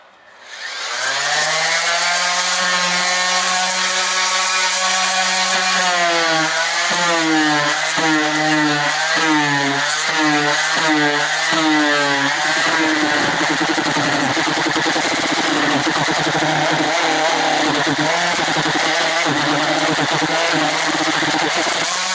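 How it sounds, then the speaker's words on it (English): A power sander grinds steadily and loudly across a tanned deer hide being finished into buckskin, its whining motor note wavering as the tool is pressed and moved, then settling into a constant rough drone. "So we'll start sanding this thing out and finish it off here."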